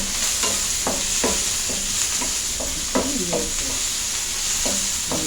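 Vegetables for veg fried rice are stirred in a sizzling pan, with rhythmic utensil scrapes and taps over a constant, close frying hiss.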